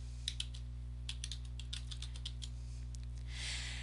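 Irregular bursts of keystrokes on a computer keyboard as numbers go into Minitab statistics software, close and fairly quiet over a steady low electrical hum, ending in a soft hiss.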